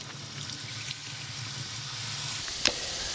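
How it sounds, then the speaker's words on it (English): Canned beans rinsed under running water in a kitchen: a steady, even rush of water that continues throughout, with one brief sharp clink near the end. "So as you're rinsing the beans"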